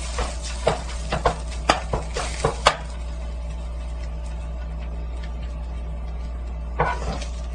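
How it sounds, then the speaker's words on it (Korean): Seasoned beef stir-fried slowly over low heat in a pan, with a run of close spatula knocks and scrapes early on, then a quiet low sizzle, and a few more scrapes near the end. "양념이 잘 스며들 수 있도록 약불 정도에서 천천히 볶아주세요."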